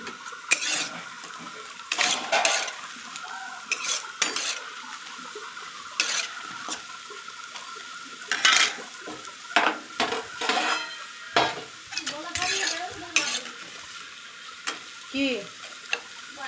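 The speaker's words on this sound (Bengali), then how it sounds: "বড়াটা এবার আমি আস্তে আস্তে তুলে নেব" Golden-red lentil fritters are lifted slowly from hot frying oil. A bubbling sizzle runs under repeated clinks and scrapes of a metal utensil against the pan, with a faint voice briefly in the background.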